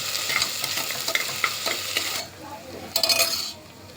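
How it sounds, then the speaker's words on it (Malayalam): Half a kilo of garlic paste sautéed in a pressure cooker pot, a steady sizzle with a spoon stirring and scraping. A brief lull follows, then the sizzling and scraping pick up again near the end. "നമുക്ക് നല്ലോണം ഒന്ന് വഴറ്റിയെടുക്കാം."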